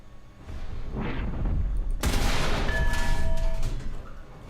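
Heavy gunfire in War Thunder on the dev server near a Type 74 tank: a muffled distant thud, then a sharp loud blast at two seconds followed by rolling, rumbling booms and lingering echo.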